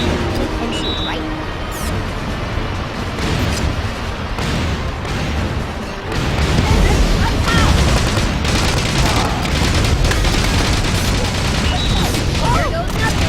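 Weapon fire and explosions in the Battalion Wars video game, Titans of Tundra mission: loud, dense volleys of gunshots and booms that intensify midway, with people talking over the battle.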